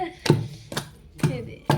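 Gongura leaves pounded by hand in a stone mortar for pickle: four heavy, evenly spaced thuds about half a second apart, close and distinct with quiet gaps between strikes.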